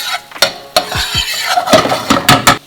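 Onion, garlic and smoked turkey cooking in oil and butter in a pan, with a sizzle beneath sharp clanks and scrapes of a utensil against the pan, loud and close, no talking.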